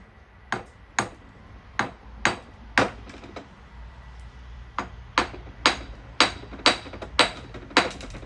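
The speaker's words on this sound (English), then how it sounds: "The tap with the hammer." A hammer taps repeatedly on an ancient worked stone, giving about fifteen sharp, ringing clinks in irregular clusters with a short pause midway, close and clear over quiet background.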